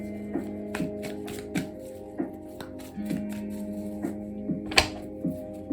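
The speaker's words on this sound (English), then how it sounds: "for now I'm still shuffling" A deck of tarot cards is shuffled by hand in a quick, regular series of soft riffling taps, about one every half second, over quiet steady background music.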